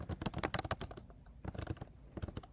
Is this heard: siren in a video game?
no